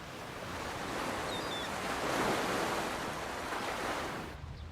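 Ocean surf washes onto the shore at the seaside in a steady, broad rushing hiss that swells gently and fades near the end, heard alone without speech.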